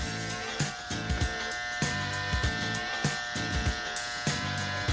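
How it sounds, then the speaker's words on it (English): An electric hair clipper trims around a customer's ear during a bob haircut, a steady close buzz broken by short repeated taps and snips as the blade corner works along the hairline. "Just tap with the corner of the clipper."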